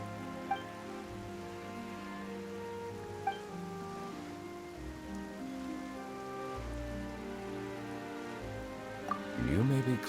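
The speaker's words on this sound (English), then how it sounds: "Why is it raining all of a sudden?" Rain falls in Genshin Impact during a Fontaine story quest, a soft, steady patter beneath sustained tonal game music and occasional chimes.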